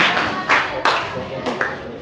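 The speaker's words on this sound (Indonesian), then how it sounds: "Tepuk tangan untuk kelompok 2 ya." A school class claps for group 2 in a classroom, a short, uneven patter of hands from a small group, fairly close, with brief quiet moments between the bursts.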